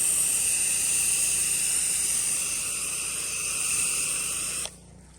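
A pressure washer rinses a house from a distance in a fine mist, giving a steady, even hiss that cuts off abruptly at the end.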